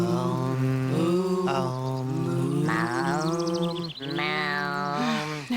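A cow moos loudly and close, a long drawn-out low call that rises and bends in pitch through several swells before ending abruptly.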